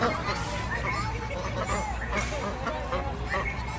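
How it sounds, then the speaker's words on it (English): Geese and ducks honk and quack amid a busy crowd at an interactive aquarium and animal preserve, the bird calls steady and close-ish, mixed with constant background chatter and hubbub. "Look at the geese."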